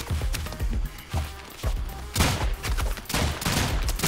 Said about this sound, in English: I have extra gun pew pew shots.